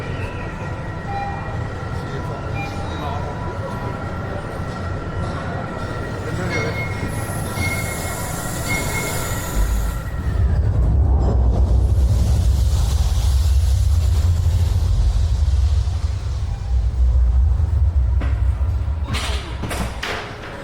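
A roller coaster train at Parc Astérix rumbles along its track, a loud continuous roar with squealing wheels and a heavy low surge midway, while voices chatter faintly beneath.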